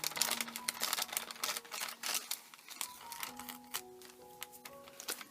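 Scissors snipping and tearing through double-thickness faux leather while making a vintage journal: a run of sharp, close crisp cuts and crinkly rips in irregular bursts, with no talking.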